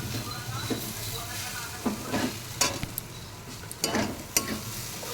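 Sugar and semolina stirred in ghee in a pan, with repeated close scraping strokes over a soft, steady sizzle.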